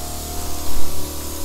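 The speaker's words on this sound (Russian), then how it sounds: "опрыскиватель этот аккумуляторный. Он хорошо распыляет" A battery-powered sprayer misting plants against mites, heard close up as a loud, continuous hiss with a steady motor hum beneath and slight surges in level.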